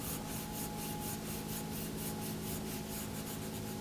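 A grinding compound stick rubbed back and forth on a leather knife strop, giving a steady, close scratchy rasp with regular strokes and no speech.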